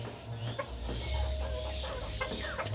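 Desi hens and roosters in a farm house give soft, scattered clucks, faint and fairly close, with no talking.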